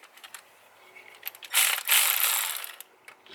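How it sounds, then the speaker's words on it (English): Wrench work loosening freshly torqued bolts on a Cummins diesel engine, with a few light clicks followed by a louder, sustained metallic ratcheting rasp up close. "Go ahead and loosen those bolts that you just torqued down to 44 inch-pounds."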